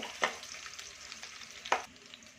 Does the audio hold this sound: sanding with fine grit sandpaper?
no